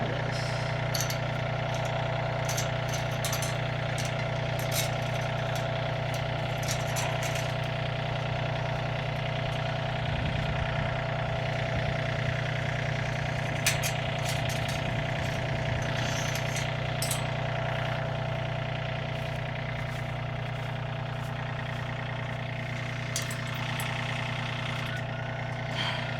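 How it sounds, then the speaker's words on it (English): Tractor engine idling close by, a steady rumbling drone with a constant low hum and occasional light rattles, running unbroken throughout. "I'm gonna turn this tractor off."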